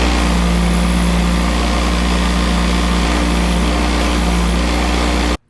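Engine valves from a VW GTI 2.0T are cleaned on a motor-driven wire brush, producing a loud, steady whirring grind with a constant hum that runs unbroken until it cuts off abruptly at the end.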